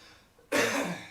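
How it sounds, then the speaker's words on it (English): A single sharp cough from an audience member, close and abrupt, breaking the quiet background of a snooker-style match. "cough there"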